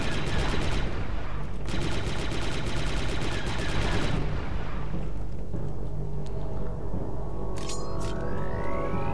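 Blaster fire from a DC-17 rifle in the Star Wars: Republic Commando video game, with dense, sustained rapid shots and explosions through the first half, then rumbling battle noise and a rising tone afterward.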